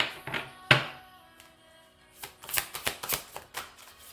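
Tarot cards being shuffled by hand, a few separate slaps at first, then a rapid run of crisp riffling flutters, close and clear, with no talk.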